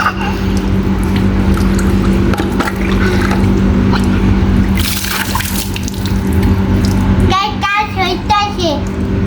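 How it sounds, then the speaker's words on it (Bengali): Water pours over a child's head during an outdoor bath in hot weather, a loud continuous splashing stream with children's and adults' voices over it. "এই একটু পানি দিয়ে দাও তো মাথায়"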